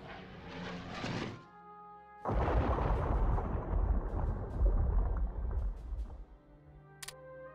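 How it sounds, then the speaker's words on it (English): Bombers carry out logistic bombing runs in the strategy video game Hearts of Iron III, producing a muffled rumbling blast that swells and holds for several seconds after a brief lull, fairly quiet. "I'm doing logistic bombing, so they are screwing our supplies here"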